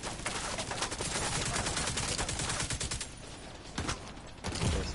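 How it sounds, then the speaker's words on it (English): Sustained gunfire in the video game The Division 2, dense rapid shots rattling for several seconds, then a few louder isolated bangs toward the end, close and loud with no talk over it. "Oh, who's fucking shooting me"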